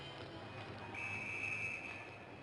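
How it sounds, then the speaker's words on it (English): Referee's whistle at a high school ice hockey game between Mount St Charles and Bishop Hendricken, a single sustained blast of about a second heard at a distance over rink crowd noise. "Have a whistle blown."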